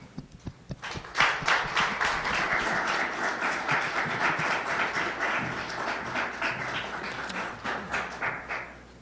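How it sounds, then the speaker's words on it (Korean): A church congregation claps to welcome a guest speaker at a Korean service, dense, rhythmic applause that quickly swells and holds steady for several seconds, growing slightly more synchronized toward the end. "나올 때 우리 박수로 환영하겠습니다."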